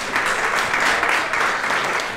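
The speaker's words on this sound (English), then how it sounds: "Round of applause, please." Audience applause at a Saint Bernard dog show, a steady sustained clapping from a crowd that holds at an even level throughout without pause.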